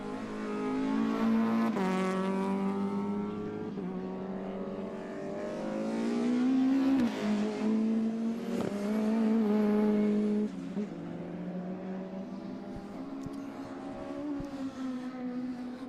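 Modified Ford race cars at Mondello Park, with engines screaming loudly close by, revving and shifting through gears, and several cars passing in overlapping waves of engine roar.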